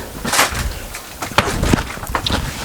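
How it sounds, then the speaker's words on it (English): Two or three dull knocks of a head striking wooden cabinets inside a camper van, each brief and close, with faint rustling between them. "that was the sound of my head hitting the cabinets"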